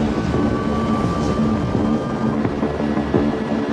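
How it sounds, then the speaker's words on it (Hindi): A helicopter flying over open African bushland and dense scrub gives a steady, loud rotor and engine drone that fills the whole stretch with no voices. "मैं हेलीकॉप्टर में हूँ और मुझे एक फैला हुआ इलाका दिख रहा है"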